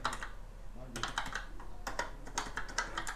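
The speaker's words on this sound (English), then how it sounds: "let's first go with the classics and check if the keyboard works" Keys clacking on a Commodore PET 2001 keyboard under repair, a close run of quick uneven keystrokes after a brief pause, with faint background noise.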